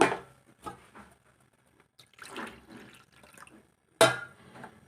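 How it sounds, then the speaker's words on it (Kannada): Water poured into a pot in a few short, splashy bursts, close by and fairly quiet, with pauses between pours. "ಎರಡೂವರೆ ಕಪ್ನಷ್ಟು ನೀರನ್ನು ಹಾಕ್ಕೊಳ್ಳೋಣ"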